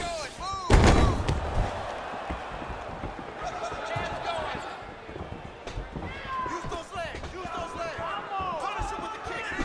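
Punches and kicks thud in UFC 4 during a Bruce Lee versus Charlie Nash fight, one heavy impact near the start followed by scattered lighter hits under continuous commentary.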